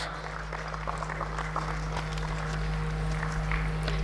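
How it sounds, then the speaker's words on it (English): Standing conference audience in a grand hall applauding an award recipient, a moderate, even patter of many hands with some shuffling of feet, over a constant low hum. "Please rise and you can applaud."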